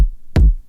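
A single punchy layered kick drum hit, stacked samples, with a sharp click and a deep, booming low end that quickly decays.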